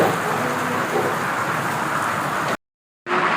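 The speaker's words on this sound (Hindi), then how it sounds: "बाहर बहुत तेज बारिश हो रही है।" Heavy rain pours down outside in the mountains at Gaurikund, a dense, steady hiss of falling water that cuts out briefly for a moment near the end before resuming.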